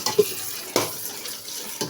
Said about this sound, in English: I have to be stirring this like so it does not get burnt.